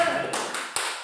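A few sharp hand claps in quick succession, close and fairly loud, with a brief pause between them, from a group clapping rhythmically at a school.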